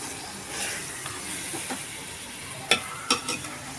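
Masala and vegetables sizzle steadily in a hot pan, with a few sharp scraping strokes of stirring near the end, close and moderately loud, without any voices.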